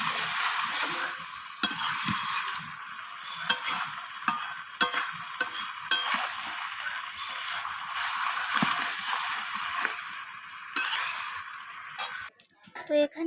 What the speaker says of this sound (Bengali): তো ধনিয়া পাতাটা দিয়ে আমি আবারও কষিয়ে নিচ্ছি।